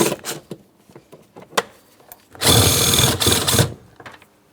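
A power tool works two 10mm mounting bolts loose on the rear blend door actuator of a 2008-2016 Chrysler, with a few short buzzing bursts and then one longer whirring run, close and loud.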